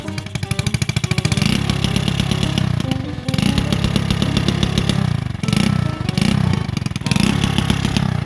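A motorcycle engine runs with a freshly fitted exhaust pipe, producing a loud, steady rumbling idle with brief dips in between, close to the listener, with no talking.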